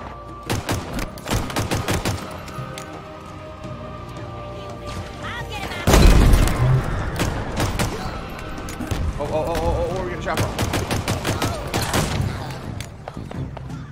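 Rapid gunfire from sniping jackals during a Halo Infinite campaign battle, bursts of shots and a louder blast near the middle amid continuous combat noise, with voices talking over it.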